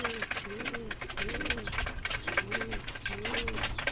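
Racing pigeons coo repeatedly in a loft, with soft rolling calls recurring under rustling and a voice talking nearby.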